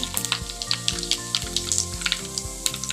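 Cumin seeds sizzle and crackle in hot oil, a dense, close frying hiss with quick pops over a steady tonal background hum.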